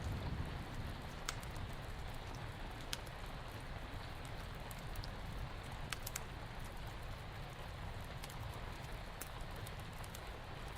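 Steady rain falling, a constant dense hiss with occasional sharp drips or taps standing out now and then, even and unbroken across the whole stretch, with no voices.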